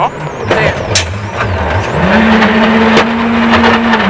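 A Mitsubishi Lancer rally car at the 2007 Monte Carlo WRC drives loudly and close by, its engine rising and falling through gear changes before holding a high, steady drone.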